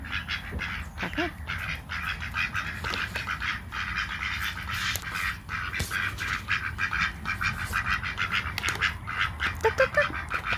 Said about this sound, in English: Day one of trying to hand feed the ducks.